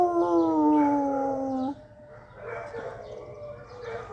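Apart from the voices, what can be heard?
dogs howling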